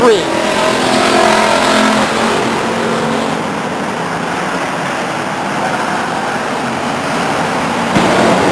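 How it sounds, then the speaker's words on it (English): Race cars lapping Stockton 99 Speedway in 1999, a loud continuous engine roar swelling and fading as cars pass, with a track announcer talking over it. "Guy Gabor completes lap number 14 now. And down the backstretch, his next victim, Brian Clark in the 43."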